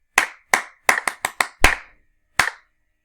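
Hands clap a practice rhythm, eight sharp claps at close range, with a quick run of four in the middle, then a pause before a final clap. Nobody speaks.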